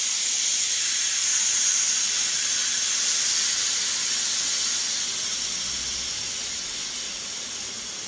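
A pressure cooker vents steam in a steady, loud hiss that runs the full length without pause, easing slightly toward the end, with no talking over it.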